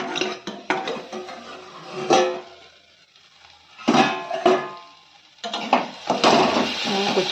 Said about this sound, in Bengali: ঢাকনাটা তুলে দেখি কেমন হয়েছে।